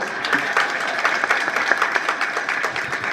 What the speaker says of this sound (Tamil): கைத்தட்டுங்க பார்ப்போம்.